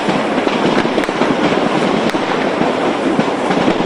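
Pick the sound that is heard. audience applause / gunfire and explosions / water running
gunfire and explosions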